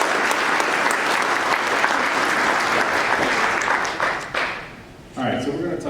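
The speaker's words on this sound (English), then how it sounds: "Let's give it a round of applause for California" A panel-talk audience applauds in a sustained burst of clapping that fades out near the end, followed by a brief sound of voices.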